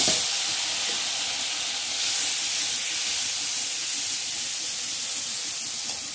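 Tomatoes tipped into a hot frying pan with green and red chillies give a loud, steady sizzle and hiss of steam that runs unbroken from start to end, with no talking.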